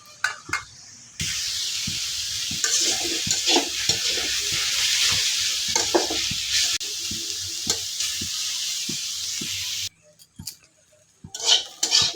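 Leaves spread flat and frying in a pan, a continuous close sizzle with frequent clinks and scrapes of a utensil, ending in a few scattered knocks after the frying noise stops; no talking.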